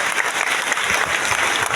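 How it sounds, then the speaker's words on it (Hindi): An audience at a company event for SLPS Wellness Private Limited bursts into dense, loud, continuous applause that holds steady throughout. "एक जोरदार और शानदार ताली होनी चाहिए"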